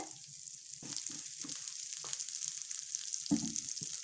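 Masala dosa frying in sesame oil on a pan, with a bright continuous sizzle and occasional spatula scrapes and taps, close and steady, no voices.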